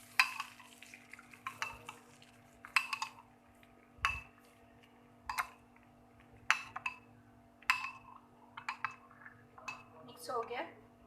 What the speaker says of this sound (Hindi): अच्छे से मिक्स कर लेना है हमें इसे।